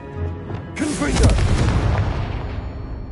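A Confringo spell in a wizarding video game lands as a single heavy booming explosion that rolls on and slowly fades, with faint spoken game audio over it.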